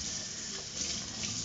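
Water runs from a tap for washing, a steady close hiss of flowing water that continues evenly without a break.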